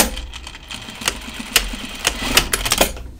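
A sewing machine stitches across the top of the placket on an Archer button-up shirt, giving a brief close run of rapid mechanical clatter with sharp rhythmic clicks.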